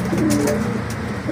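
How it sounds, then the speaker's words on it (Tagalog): A pigeon coos nearby, outdoors, in a few low soft rolling calls over steady background noise. "So isa nating ibon, ayun na ata."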